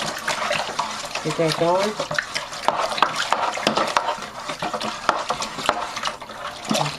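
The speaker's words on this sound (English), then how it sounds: "Give that a good stir." A spoon stirring homemade Barolo wine kit must in a fermenting bucket, producing sloshing, swishing liquid sounds with scraping against the container, while a person speaks briefly over it.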